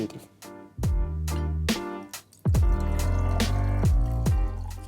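Ninety millilitres of sherry is poured into a glass for a Rebujito cocktail, splashing and glugging close up in two bursts separated by a short pause.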